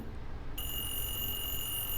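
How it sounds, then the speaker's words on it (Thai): A phone rings in a video game with an electronic tone like an alarm clock. After a half-second of faint hiss, a steady, high, shrill ring starts abruptly and holds on. "มันเป็นเสียงโทรศัพท์ที่คนโทรมา"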